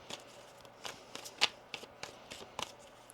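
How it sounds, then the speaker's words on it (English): Tarot cards being shuffled by hand: a run of soft, quick riffling and slapping bursts at an uneven rhythm, close and quiet, with no talking. "One more shuffle here."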